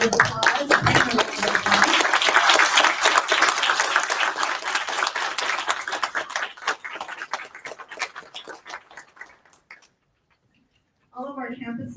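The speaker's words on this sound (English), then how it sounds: "if we would all like to stand, please, and give a round of applause." A standing round of applause at a school board meeting, loud and dense at first, thinning into scattered claps before a brief silence, then noise picks up again at the very end.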